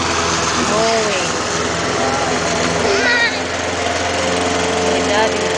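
Close, loud lawn mower engine drones steadily during grass mowing, with a few brief voice-like calls faintly rising over the constant motor noise.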